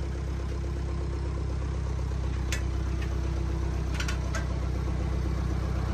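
Tractor engine idling loudly and steadily while working the hydraulics of a Bush Hog 1445 wheel disc, a deep continuous rumble with a few short sharp clicks and clanks over it.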